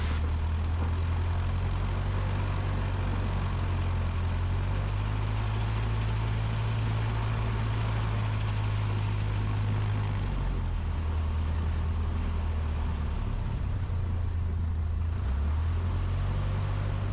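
A light aircraft taxis to the runway hold, with a steady, loud propeller engine drone heard from inside the cockpit, rising and falling slightly in pitch for the whole stretch, and no talk.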